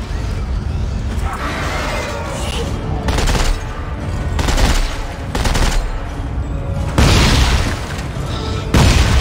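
A machine gun firing incendiary rounds in Dead Space 3, loud repeated bursts and booming blasts in separate surges, heavy and close, with some game noise between bursts.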